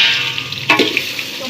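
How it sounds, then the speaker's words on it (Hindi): Onions dropped into hot oil with fried chilies for a goat meat curry, a steady close sizzle that surges into a louder crackling burst partway through, then settles, with no talking. "तो अब इसमें हम रख लेते हैं प्याज।"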